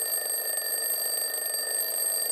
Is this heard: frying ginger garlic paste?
no